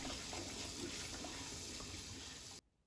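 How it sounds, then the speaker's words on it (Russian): Pork trotters being rinsed under a running kitchen tap, a steady broadband rush of water that plays on its own for most of the stretch and then cuts off abruptly near the end. "Далее хорошенько мою мясо, чтобы смыть с него все остатки пены."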